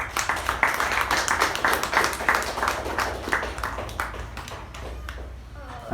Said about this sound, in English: With a huge round of applause, please help me welcome Toastmaster Jayanti.